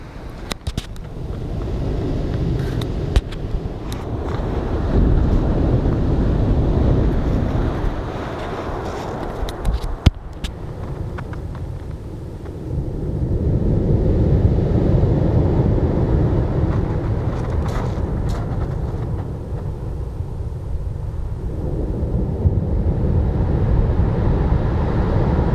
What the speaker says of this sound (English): That sound of the waves, beautiful.